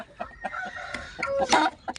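Roosters in a coop, molting at the time, crow and cluck together, with a drawn-out crowing call among sharp repeated clucks and a loud burst past the midpoint.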